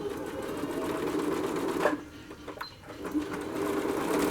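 A sewing machine stitching footstool upholstery on an antique footstool: close, steady motor whir and rapid needle rhythm, pausing briefly in the middle before resuming.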